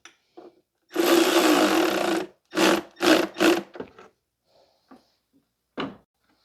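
A power tool snugs bolts into the timing cover of a 2009 Subaru Impreza with a 2.5 SOHC EJ253 engine, close and loud: one long whir followed by three short bursts, with faint clicks between them and no talking.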